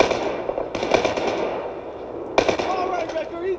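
Gunfire in a video game shootout against hostiles firing from windows, with two sharp shot bursts ringing out over a busy background, close and loud.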